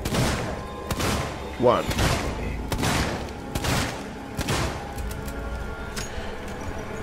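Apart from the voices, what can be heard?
revolver shots in video game Alien: Isolation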